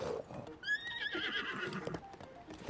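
A pony in The Legend of Zelda: Breath of the Wild gives a high, wavering whinny that trails off, with soft hoof clops and shuffling around it.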